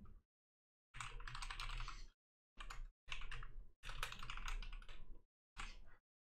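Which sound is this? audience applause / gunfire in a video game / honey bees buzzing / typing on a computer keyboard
typing on a computer keyboard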